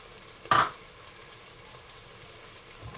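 Fish cooked with parsley is stirred in a hot pan. A short, loud sizzle bursts up as it is turned, then settles to a faint, steady frying hiss.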